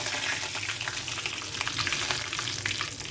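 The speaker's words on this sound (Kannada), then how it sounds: "ಈಗ ಎಣ್ಣೆ ಕಾದಿದೆ ಜೀರಿಗೆ ಸಾಸಿವೆ ಹಾಕ್ತಾಯಿದ್ದೀನಿ ಈಗ ಕರಿಬೇವು ಹಾಕ್ತಾಯಿದ್ದೀನಿ" Cumin, mustard seeds and curry leaves spluttering in hot oil, a steady close crackling sizzle with rapid pops throughout and no talking.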